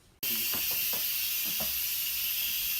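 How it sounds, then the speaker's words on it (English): An Instant Pot vents steam in a loud, steady hiss that starts abruptly and carries on without a break, with a few faint clicks early on. "We're waiting for this steam to let off here."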